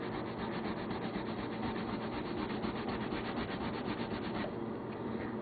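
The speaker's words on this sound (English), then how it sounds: "apply some crayon." Crayon rubbed steadily across a surface, a continuous dry scratchy scrubbing with quick back-and-forth strokes, close and fairly loud with no talk.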